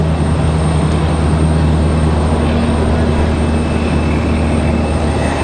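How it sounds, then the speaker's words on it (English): An Airbus A220-300 jet comes in to land at Raleigh-Durham, giving off a constant, dense engine rumble and whine at steady volume throughout. "Got a pair of A220-300s landing here momentarily"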